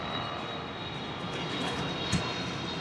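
A large Etihad cargo plane flies overhead at the Abu Dhabi Grand Prix, its engines a steady broadband roar that holds evenly throughout, fairly distant and without talk.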